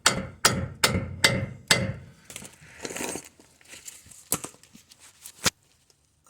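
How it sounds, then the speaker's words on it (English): Metal hammer blows on a car's front control arm (wishbone) during replacement on a Citroen Picasso, five sharp evenly spaced strikes close by, followed by quieter scraping, clinks and a final loud knock. "Now I'm going to hit this until the bolt hole lines up."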